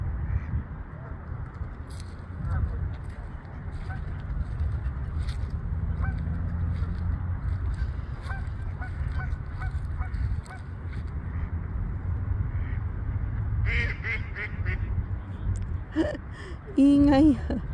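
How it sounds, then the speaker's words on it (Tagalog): A large mixed flock of ducks and geese honks and quacks nearby during an outdoor afternoon walk, a steady noisy chorus with a few louder calls standing out, while a person talks over it. "Di mix sila, may itik siya, may geese."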